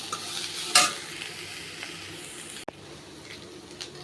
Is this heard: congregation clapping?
no